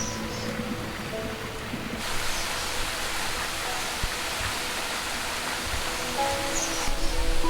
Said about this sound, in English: a picturesque hot waterfall flows into one of the pools